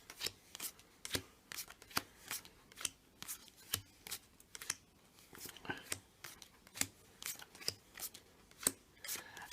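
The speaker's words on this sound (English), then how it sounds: "now I'm going to shuffle in the matchday cards with the remaining position cards, like so" Game cards for a six-card shinty-themed game are riffled and shuffled together, crisp repeated flicking and slapping bursts in a steady irregular rhythm, close and moderately quiet with no talking.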